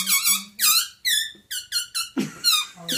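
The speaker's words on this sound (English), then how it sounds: "That's beaver squeaking." A squeaky beaver toy or instrument gives a series of about eight high, wavering squeaks in a quick uneven rhythm, loud and close, with a short rustling break near the end.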